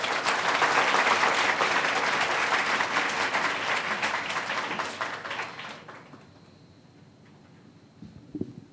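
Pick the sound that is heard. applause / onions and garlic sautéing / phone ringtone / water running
applause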